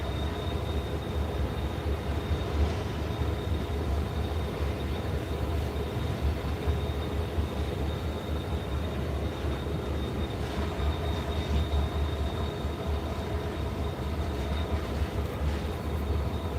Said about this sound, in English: The train that's passing by right now